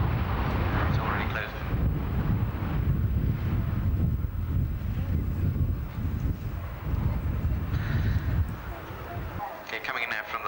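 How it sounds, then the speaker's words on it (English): A Lockheed aircraft makes a high-speed fly past at an air display at North Weald, a loud sustained engine roar with heavy wind buffeting that holds steady across the clip before dropping away sharply near the end. "Coming in now from the left for a high-speed fly past."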